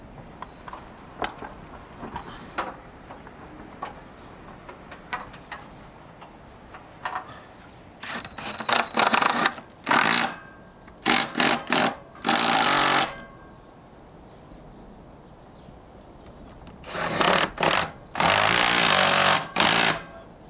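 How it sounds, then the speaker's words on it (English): An impact driver with a socket attachment drives fasteners into a pergola in loud, rapid hammering bursts. Scattered ticks lead up to several one-second runs and a longer stretch near the end. "use an impact driver. And I've got a socket set attachment on the end."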